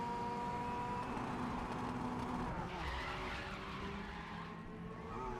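A race car in GRID Legends slides into a long tire skid after a handbrake pull, a sustained squeal over a steady engine roar that shifts pitch midway and continues to the end.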